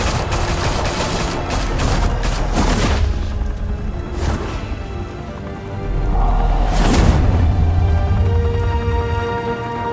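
Heavy gunfire in a Batman Telltale Series game scene, a dense loud fusillade of rapid shots with booming impacts that swells and recedes across the whole stretch, without voices.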